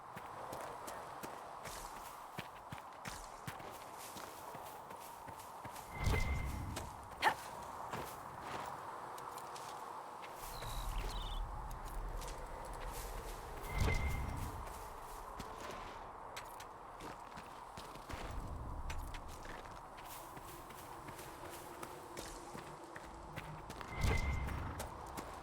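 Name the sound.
horse hooves in video game Dragon Age: Inquisition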